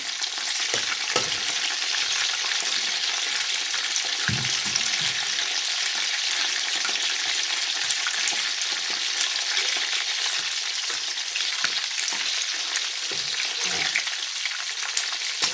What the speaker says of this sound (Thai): ทอดดูไปเรื่อยๆ